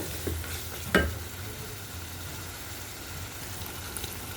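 Spice paste sizzles softly in a pan for shrimp curry while being stirred, with one sharp spoon scrape against the pan early on and a low, even frying hiss throughout.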